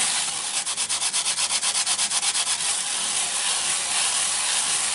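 Sweet short pastry dough being smoothed in a tin, a close, steady rubbing swish with rapid rhythmic strokes at first, then settling into an even continuous rasp; no talking.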